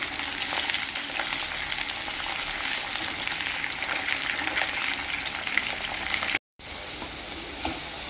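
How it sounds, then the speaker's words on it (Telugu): Ivy gourd pieces fry in hot oil until golden, giving a loud, close and continuous sizzle that is broken only by a brief silent gap. "ఈ దొండకాయలన్నీ ఇలా గోల్డ్ కలర్ వచ్చేలాగా వేసుకోవాలి"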